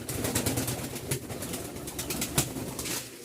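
Pigeons coo at a busy pigeon market in Mirpur, Dhaka, their soft calls mixed with rustling, wing movement and a few sharp clicks against steady background noise.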